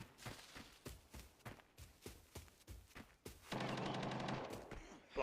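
Bursts of gunfire in the video game Arena Breakout, rapid repeated shots in clusters, followed by a louder sustained rattling burst near the end.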